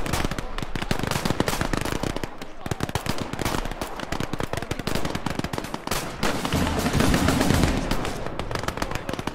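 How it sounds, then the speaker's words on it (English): An anti-tank rifle fires in Last Grenadier 1946 amid a dense, loud barrage of rapid gunfire and heavy booming shots that keeps going without a break, with a voice briefly audible. "that AT rifle sounds like a bloody tank"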